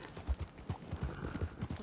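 Horse hooves clip-clop in a steady trotting rhythm in the Red Dead Redemption 2 video game, fairly quiet and continuous with no talk over them.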